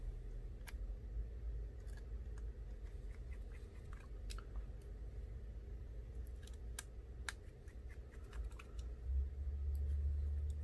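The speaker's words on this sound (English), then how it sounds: "Now we get the screws and screw it." Small screws being driven in by hand with a tiny screwdriver during an iPhone 6s Plus screen replacement, a run of faint, close clicks and ticks over a steady low hum, with no talking.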